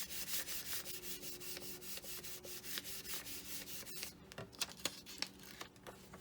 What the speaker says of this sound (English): I'll just give it a bit more of a burnish